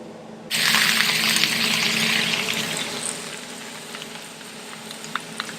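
Mushroom soaking water pours steadily into a hot pan of chow mein stir-fry, a rushing sizzle that starts abruptly and continues with small crackles as it settles.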